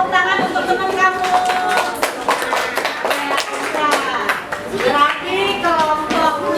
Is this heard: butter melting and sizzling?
no